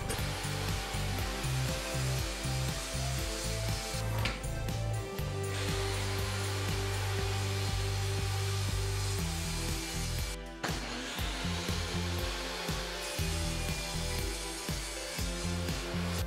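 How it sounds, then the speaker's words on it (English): A power saw cuts wooden boards nine and nineteen inches long for a sign. The steady, loud whine runs continuously without speech, with brief shifts in pitch as the blade works through the wood. "now I'm just gonna cut out 2 9-inch boards and 2 19-inch boards."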